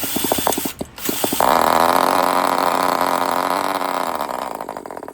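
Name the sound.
vintage Kyosho GT nitro engine starting and running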